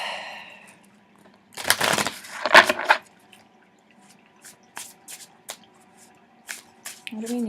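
Tarot cards being shuffled and mixed by hand, two bursts of riffling and sliding about a second long near the start, then scattered soft taps and clicks in a quiet room.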